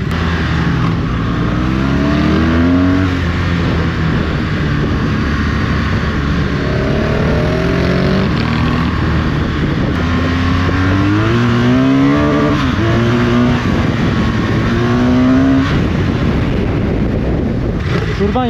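BMW R1200GS and Ducati motorcycles rev hard at night, engines rising and falling in repeated loud sweeps over steady wind noise, with voices talking now and then.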